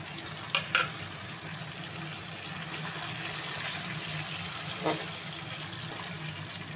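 Onion, garlic and tomato frying in a pan for a Bengali-style soybean curry, a steady soft sizzle with a few small clicks and pops throughout.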